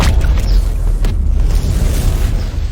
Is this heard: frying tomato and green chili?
no